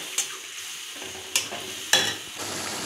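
Spice paste sautéing with tomato and onion for a shankar (stingray) fish curry: a low steady sizzle broken by three sharp spoon scrapes against the pan, close and moderately loud, with no talking.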